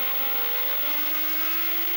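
A high-pitched Honda racing sidecar engine screams steadily at high revs, around 10,000 to 12,000 rpm, during a British F1 Sidecar race in 2011, loud and continuous, with no voices.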